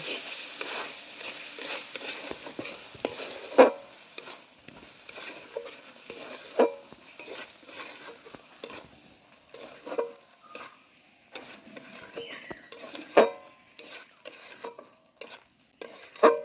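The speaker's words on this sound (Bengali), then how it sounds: "এবার ভালো করে মশলাগুলো আমি কষে নেব" Spices for a cauliflower curry with gondhoraj lemon juice are stirred and scraped in a hot pan, giving irregular close clinks and scrapes of a utensil over a soft, low sizzle, without any talk.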